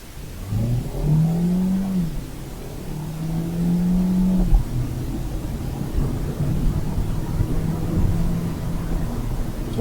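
A Hyundai Ioniq Hybrid with motor assist accelerates hard at night, its engine note climbing in repeated rising surges, loud and close from inside the car.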